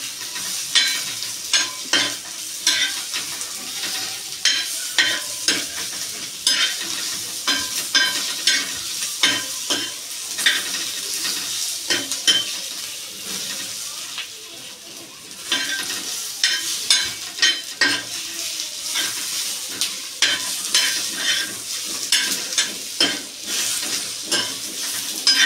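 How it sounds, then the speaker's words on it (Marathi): Onions frying in a pan for a Marathi soybean bhaji, with a steady loud sizzle and repeated rhythmic stirring scrapes throughout, no voices. "आपला कांदा भाजून झाला आहे."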